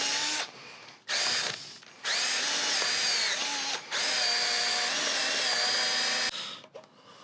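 A power drill works a tight-fitting powder-coated part during a Raptor performance upgrade, whirring loudly and close in several bursts separated by brief pauses, with no talking.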